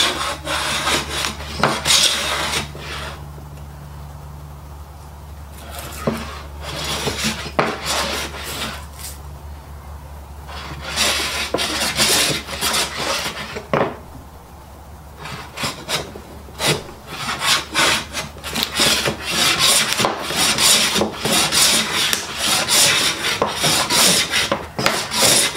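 A hand plane fitted with a 55 degree high angle frog, as in a Stanley No. 4 or MF 9 body, takes shavings in repeated rasping strokes separated by brief pauses, close and loud.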